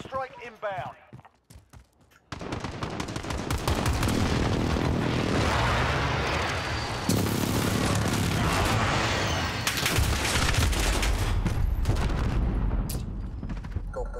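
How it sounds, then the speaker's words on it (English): Precision airstrike in the Modern Warfare video game: after a brief voice at the start, a loud, dense roar of jets and explosions with gunfire-like cracks fills the rest of the clip, staying intense and continuous throughout. "friendly precision airstrike inbound."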